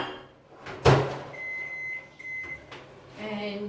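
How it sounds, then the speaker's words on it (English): Microwave oven softening about 40 grams of butter: a door clunk, then a steady hum broken by a repeating electronic beep, with a voice talking briefly near the end. "I'm going to microwave that just to soften it."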